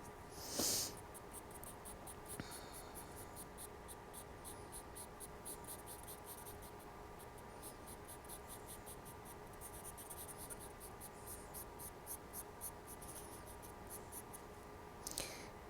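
A stick of charcoal wrapped in masking tape drawing on paper, producing rapid rhythmic scratchy strokes that continue quietly and steadily throughout.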